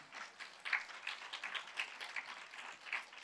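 A fairly quiet patch of scattered hand clapping from a church audience, uneven pulses of claps rising and falling.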